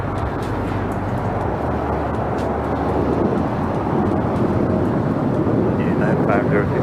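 A Delta airliner takes off from runway 25 right, a loud, steady low engine roar that holds evenly throughout at close range.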